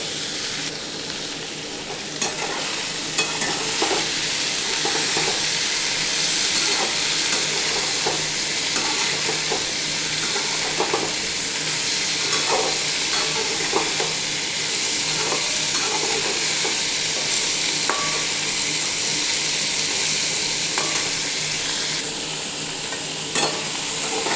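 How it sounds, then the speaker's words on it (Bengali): Pumpkin and potato stir-fry in a pan for a vegetarian chickpea chhokka, giving a steady, loud sizzle throughout with frequent scraping and stirring clicks of a utensil, and no speech. "কুমড়োটা আর আলুটা বেশ কিছুক্ষণ ধরে একটু ভাজবো"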